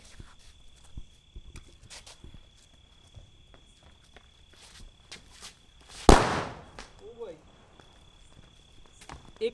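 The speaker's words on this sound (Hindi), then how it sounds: "इसको बोलते हैं बस मिर्ची बम ही बोलेंगे हम तो, बड़े वाला मिर्ची लीजिए, शुभारंभ कीजिए इसका भी" A large mirchi bomb firecracker set off during Diwali celebrations bursts with one sharp, loud bang, followed by a short crackling tail, standing out against quiet outdoor background noise.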